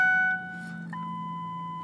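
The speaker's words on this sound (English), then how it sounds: "My seatbelt's not on, so it will beep" A 2003 Ford Ranger 4x4's seatbelt warning chime sounds, steady two-tone electronic tones that hold, then shift to a single lower tone over a faint idling hum.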